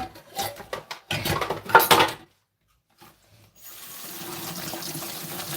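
Water runs from a tap in short splashing bursts alongside clinking of dishes, pauses briefly, then flows steadily as a soft hiss.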